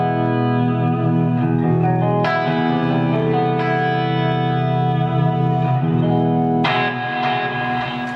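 A sustained clean electric guitar chord from a Blackstar ID Series amp rings out with spacious reverb and trailing delay echoes, restruck a couple of times, loud and alone without any voices.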